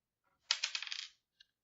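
Dice rattle and tumble across a tabletop during a tabletop role-playing game session, a short bright clatter of bouncing hits that settles within a second, followed by a faint single click.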